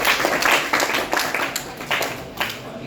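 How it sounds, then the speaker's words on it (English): Classroom applause for students at a digital marketing guest lecture: a short burst of scattered clapping from a small group, fairly close, with a few louder claps standing out. "Give them a round of applause actually because they tried."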